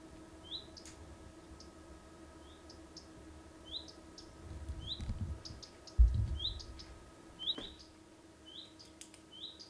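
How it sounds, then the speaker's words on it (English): A small bird chirps again and again in short, bright notes, spaced evenly at moderate distance over quiet background hum, with a low thudding rumble partway through. "Oh God, is that bird ever going to shut up?"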